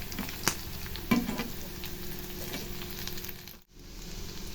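Potato and egg fry in a pan as part of a potato egg gravy, giving a quiet, continuous sizzle with a few sharp stirring clicks and a brief dropout near the end.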